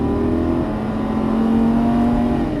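Lamborghini Gallardo Superleggera LP570-4 at full throttle on a Las Vegas track, its engine note steady and loud with a strong sustained tone that barely shifts across the burst, heard up close.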